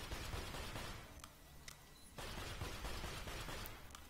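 Rapid pistol fire in the video game Borderlands 2, a dense stream of sharp shots over a steady game background, with a brief dip partway through before the firing resumes.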